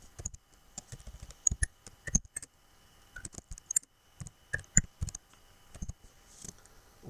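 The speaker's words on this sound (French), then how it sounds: "Validons avec la touche entrée du clavier." Keys clack in quick, irregular bursts on a computer keyboard while cells in an Excel spreadsheet are filled in, close and fairly quiet, with short pauses between flurries.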